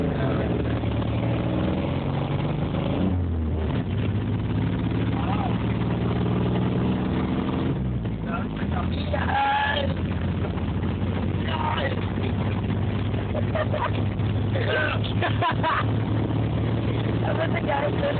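Truck engine running steadily while driving, a continuous mid-low drone with a shift in tone around a gear change, heard under frequent conversation between people inside the cab.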